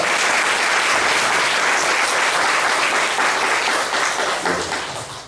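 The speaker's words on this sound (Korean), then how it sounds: "환영의 박수 부탁드리겠습니다" Sustained warm applause from a church congregation welcoming visitors, dense and steady, then fading slightly at the end.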